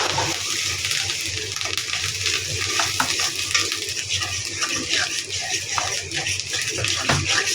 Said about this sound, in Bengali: তো ডিমটা দিয়ে কিন্তু নাড়তে থাকতে হবে, নাহলে এই যে ডিমটা মানে ই হবে না।